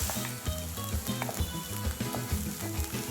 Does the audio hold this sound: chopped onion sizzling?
yes